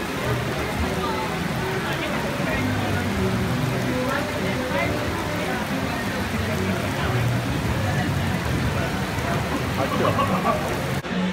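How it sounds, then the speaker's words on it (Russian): Steady rain falls throughout as a continuous broadband hiss of drops on surfaces, with faint voices underneath, during an outdoor wedding outing. "Дождь идет."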